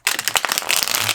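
Thick tarot cards shuffled close up, a dense run of rapid papery riffles and slaps lasting about a second, fairly loud and alone.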